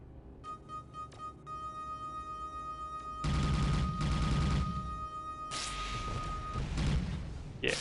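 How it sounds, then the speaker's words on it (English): A chatter cannon fires in the space combat game Tachyon: The Fringe, a loud rapid rattling burst of shots over a sustained electronic tone, with a short pause and then more heavy firing. "The sound of a chatter cannon."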